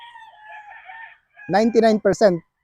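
A rooster crows loudly and close by in one long, broken call, after a quieter high-pitched tone at the start.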